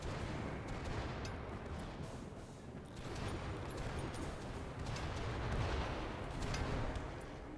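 Continuous battle gunfire and explosive rumble in the video game RimWorld, a dense steady roar of overlapping shots and booms held at a fairly low level throughout, with no talk.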